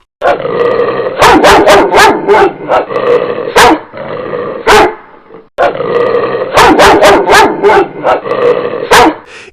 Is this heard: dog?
yes